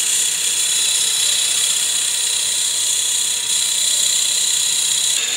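A dull Forstner bit bores into a cigar case blank on a lathe, giving a steady high-pitched whine with no breaks, loud and close.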